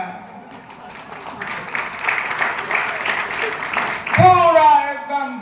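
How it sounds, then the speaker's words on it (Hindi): Audience applause at a comedy talent show, a steady wash of clapping that swells toward the end, with voices talking over it. "पीछे वाला लोग कम ताली बजा रहा है"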